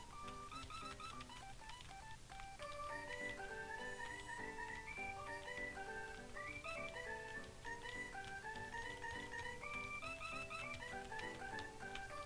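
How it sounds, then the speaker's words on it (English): Three whistle-like instruments layered into one continuous melody of stepping, sustained tones over a steady low backing, fairly faint. "Mickey's vocals are a mix of three whistling instruments that I combined into one"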